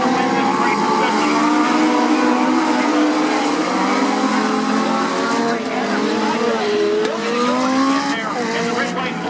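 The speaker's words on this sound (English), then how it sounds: "Leads them into turn 1 with the one of Taylor Webb right behind him" Legends race cars roar into turn one at Indiana's Sportsdrome Speedway, engines loud and continuous with pitch sweeping as they bunch into the corner, a brief tire squeal, and a commentator talking over the din.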